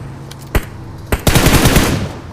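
Gunfire in the mobile battle royale game BGMI: two sharp single shots a moment apart, then a loud burst of rapid automatic fire trailing off, all close and clear with no talk.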